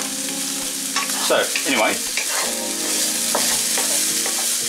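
Chopped onions sweat and sizzle steadily in a pan while a spoon stirs and scrapes through them for a chicken caldereta, with a brief spoken aside over the cooking noise.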